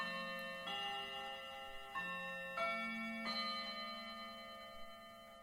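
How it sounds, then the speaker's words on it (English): A wind-up Edwardian clock rings its bell, several clear metallic strikes a second or so apart, each leaving long sustained overtones ringing, fairly near and alone in a quiet room. "We're going to have to live with that bell now because I have my clock fixed."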